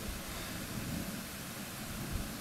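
Steady, dense hiss of rain falling close by, an even wash of noise with no voices.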